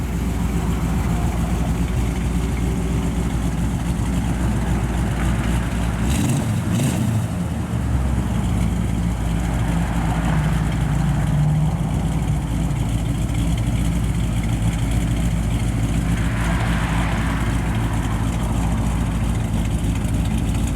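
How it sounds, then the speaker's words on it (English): A 1957 Chevrolet Bel Air two-door post with a 350 turbo transmission idles steadily through its dual exhaust, a low, even rumble that is not very loud, with a brief disturbance partway through. "Got a nice dual exhaust on it out the back. Not real loud."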